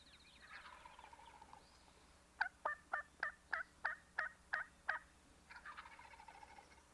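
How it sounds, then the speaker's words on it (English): Wild turkey gobblers, a trio in the field, let out a rattling gobble of about nine rapid, evenly spaced pulses at moderate distance, with softer bird calls just before and after. "He cannot see the trio of gobblers."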